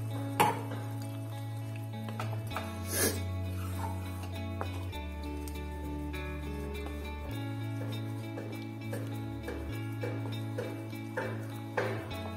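Rui fish in a poppy-seed paste curry being stirred in a pan, with a utensil scraping and clinking against metal in irregular knocks over a constant low hum of background music or a drone.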